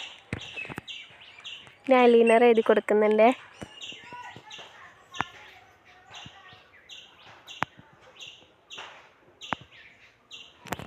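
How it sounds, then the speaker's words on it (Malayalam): Crows and small birds chirp in quick repeated bursts in the background outdoors, while a person speaks briefly nearby amid occasional clicks and taps. "അത് കാരണമാണ് കാക്കയുടെയും കിളികളുടെ ഒക്കെ സൗണ്ട് ഉണ്ടാകും."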